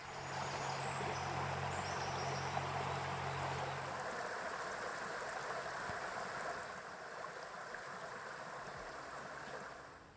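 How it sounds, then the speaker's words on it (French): A small stream flows outdoors on a trek, a steady close wash of rushing water that holds at an even level throughout, with no voices. "Comme c'est beau et paisible les petits cours d'eau."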